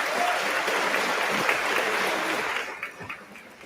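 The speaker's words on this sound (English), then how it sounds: "So, one more round of applause." Audience at a graduation ceremony clapping for students: a full burst of crowd applause that thins out into scattered claps over the last second.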